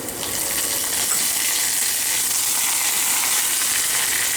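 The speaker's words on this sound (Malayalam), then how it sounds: "ഉള്ളിയൊക്കെ നന്നായിട്ട് മുരിഞ്ഞ് വന്നിട്ടുണ്ട് ഇതിലോട്ട് നമുക്ക് കുറച്ച് വേപ്പിലിട്ട് കൊടുക്കാം" Onions frying in a pan with curry leaves just added give a loud, continuous close-up sizzle with a bright hissing crackle and no voices.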